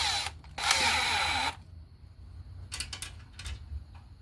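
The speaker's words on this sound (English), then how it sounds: "So we're going to put our bit into our screw gun here" Screw gun driving a self-tapping screw while wiring a GFCI breaker for a hot tub in a subpanel, a loud, close whirring burst lasting about a second, then short clicks and brief bursts of the tool.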